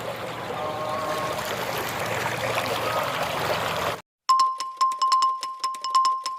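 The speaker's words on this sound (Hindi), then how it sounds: "लाइन टूटने से 1000 लीटर पानी वेस्ट दे रहा है।" Water rushing out of a broken large Chambal supply pipeline in Rajasthan, a steady loud gushing roar for about four seconds that cuts off abruptly, followed by a series of sharp ringing tones.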